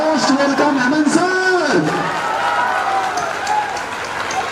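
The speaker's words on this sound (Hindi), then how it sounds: "ताली यहां पर बजना चाहिए" Audience applause at the Selection Adda Samman Samaroh 2024 award ceremony: a steady wash of clapping from a crowd runs throughout, partly under a loud voice speaking or singing over an amplified sound system.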